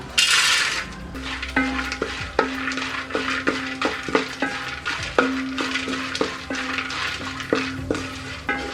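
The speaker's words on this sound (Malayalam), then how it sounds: "നമ്മൾ വറുക്കാൻ എടുത്തു വെച്ചിരിക്കുന്ന എല്ലാം ഒന്ന് വറുത്തെടുക്കണം." Ingredients frying in ghee in a pan for Kerala-style aval vilayichathu, a soft sizzle under frequent metallic scrapes and clinks of a spoon against the vessel, close up and continuous, no voices.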